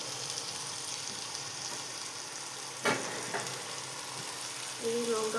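Potatoes fry quietly in a pan, a faint steady sizzle with an occasional louder scrape or clink of stirring near the middle.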